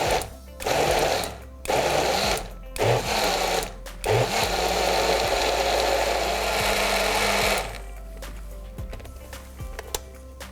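A kitchen blender pulses ingredients for a Tamil-style fish curry, loud close whirring bursts in several short on-off pulses, then a longer continuous run before it stops.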